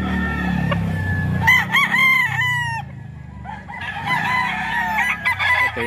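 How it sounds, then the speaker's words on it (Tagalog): A one-year-old fighting-cock stag crows loudly and close by, a strained, wavering call that is followed by more clucking and a second crow. "Ito yung manok ni Kuya Joseph"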